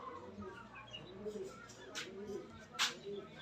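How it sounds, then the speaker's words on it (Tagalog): Racing pigeons just released at Malapascua, Cebu coo softly in low repeated calls, with a couple of brief sharp rustles or chirps among them. "May tatlo tayong ibon na nirelease sa Malapasko"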